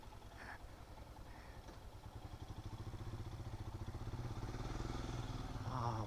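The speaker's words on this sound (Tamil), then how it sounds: "சும்மா வண்டி எப்படி ஜக ஜக ஜக ஜக ஜக ஜகன்னு இருக்குங்க" A Triumph Speed Triple 1200 motorcycle engine idles with a low, rapid, throbbing pulse, growing steadily louder and rougher as it runs close by, no voices over it.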